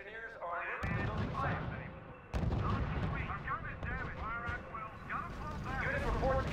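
Artillery and gunfire from the strategy video game R.U.S.E. thump and crack steadily under a synthetic radio voice giving unit status reports.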